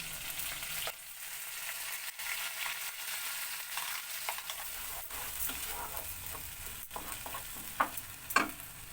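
Spice paste fries in a hot pan with a loud, steady sizzle, and a few sharp stirring scrapes near the end.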